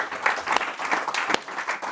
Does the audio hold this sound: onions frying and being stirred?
no